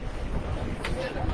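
Wind buffets the microphone outdoors at a youth world pétanque doubles event, a steady low rumble with uneven gusts.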